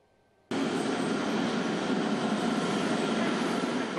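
Washington metro subway train heard as a loud, steady broadband rumble that starts abruptly after a brief quiet moment and holds constant, close and alone with no voices.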